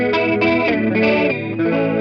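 A guitar rings out through an analog multi-effects unit on a chorus setting, giving a shimmering, slightly wavering tone over sustained chords, close and alone for about two seconds.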